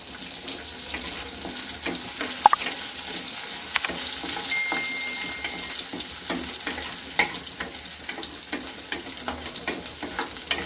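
Small onions and curry leaves sautéing in a pan with a dried red chilli for green gram curry, a steady close sizzle with occasional clinks of a stirring spoon, no talking.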